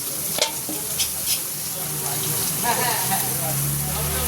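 Chicken and potato pieces fry in a pan with chilli and lemon, a steady broadband sizzle with a few sharp stirring knocks, heard through a device with faint voices mixed underneath.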